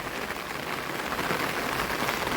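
A heavy downpour falls at a rural farm where a racing bullock is kept, producing a continuous, close, broadband hiss of rain that stays loud and unbroken, with no voices.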